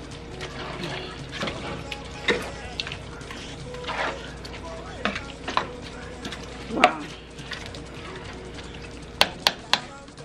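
Mushrooms and vegetables stirred together in a pan while cooking, giving a steady soft sizzle with scattered scraping clicks of a utensil against the cookware, close up and fairly quiet.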